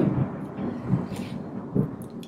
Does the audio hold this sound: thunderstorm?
yes